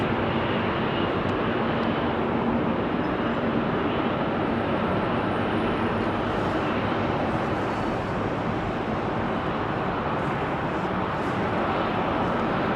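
Jet engines on a Boeing 747 Combi freighter conversion spool up on the runway at Heathrow. A loud, steady broadband roar holds for the full length, heard from a distance with no talking.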